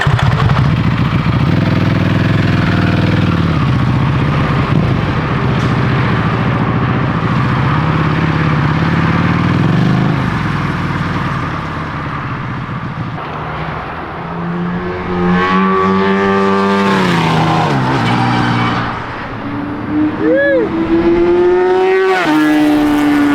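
A Buell motorcycle engine revs loudly at a big Texas bike event. The rumbling, idling drone surges through several rev blips, with clattery mechanical noise close by.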